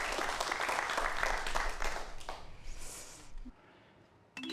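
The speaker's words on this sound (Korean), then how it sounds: "박수 부탁드립니다" A lecture audience bursts into applause welcoming a professor to the stage, a dense crowd of clapping that holds loud for about three seconds, then thins and fades away.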